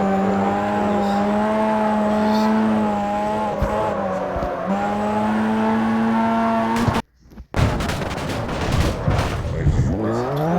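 A Mazda RX-7 drifting in the CarX Street racing game gives a loud, sustained engine whine with shifting pitch and tire squeal, broken by a brief dropout before rough revving and skidding resume.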